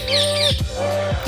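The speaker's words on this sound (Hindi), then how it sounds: "और यहाँ पे चिड़िया भाई काफी आ गई हैं," Small birds call near a house at sunrise, with loud, close squawks and whistled chirps repeating twice in quick succession.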